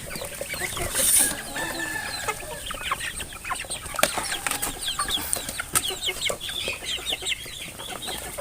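Several chickens cluck and chatter nearby in a busy, overlapping flurry, with one brief high crow-like call early on.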